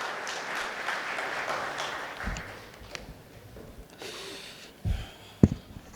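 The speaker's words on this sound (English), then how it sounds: "Please welcome with a huge round of applause our chairman for his address." An audience at an ICI event applauds to welcome chairman CA Jai Prakash Agrawal to the stage: a diffuse, fairly quiet patter of many hands that fades after a couple of seconds, leaving room noise and a few soft knocks and thumps.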